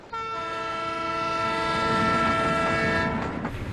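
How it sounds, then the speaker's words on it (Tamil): A train pulls out of a station in a dubbed Tamil love-action film, its steady multi-tone horn sounding loud and close for about three seconds over rumbling wheels, then cutting off as the rolling noise continues. "ட்ரெயின் கிளம்பிருச்சு"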